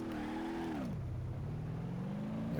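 An Indy-style race car in BeamNG.drive, driven in manual gear, revs loudly up close, its engine pitch sliding down and then climbing steadily again as it pulls through second gear.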